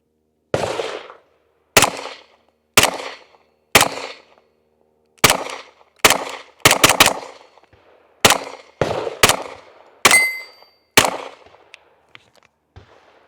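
Roughly a dozen sharp, loud shots from a Ruger LC carbine ring out one at a time at uneven intervals, each crack followed by a short echo and then silence.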